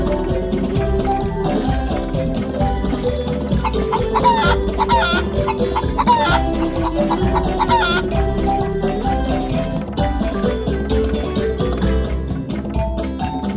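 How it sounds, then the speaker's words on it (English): A rooster crows and clucks among farm chickens, with steady clucking and crowing throughout amid continuous barnyard fowl noise, fairly loud and close. "Roosters are very protective of their flock and will fight predators or other roosters to defend their hens."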